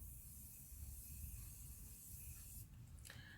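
Morphe X Jeffree Star Set and Refresh Mist sprays from its pump head in a soft, close, airy hiss that lasts a few seconds before a brief fainter puff at the end.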